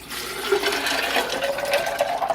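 Pink lemonade pours steadily over about two cups of ice, a continuous close, loud rush of liquid splashing and gurgling with no talking.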